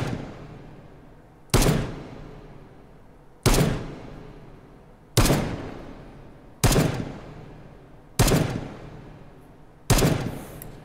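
Six sharp gunshots fired at a target in the VR shooting game Hot Dogs, Horseshoes & Hand Grenades, spaced about every one and a half to two seconds, each loud crack trailing into a short fading echo, with no speech.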